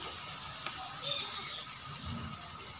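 Peas tipped into a hot frying pan for a village-style aloo matar, giving a steady moderate sizzle with a brief burst of louder frying partway through.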